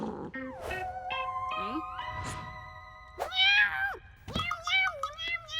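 Cartoon cat meowing and wailing in a series of loud, drawn-out, pitch-bending cries, several separate yowls close up with short gaps, alongside brief cartoon voices.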